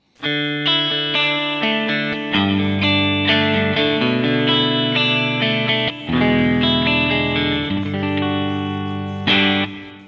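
Bright, clean electric guitar chords through a 1968 Fender Twin Reverb amp's bright channel ring out with a glassy, sparkling tone and a touch of drive, strummed steadily with sustained notes.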